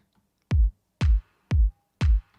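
Four punchy electronic house-beat drum hits spaced evenly about half a second apart, a deep kick each time with a snappy clap layered on every other hit.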